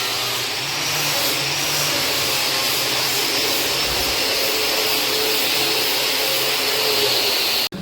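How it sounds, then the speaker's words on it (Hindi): An angle grinder works over arched wooden furniture frames, giving a loud, steady whine and roar that runs without a break, with no talking. "अब हमारा काम है इन आर्चों पर ग्राइंडर लगाना"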